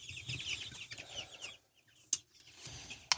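Baby chickens cluck and peep softly in a brooder, several small scattered calls at close range with brief sharp chirps between quieter patches.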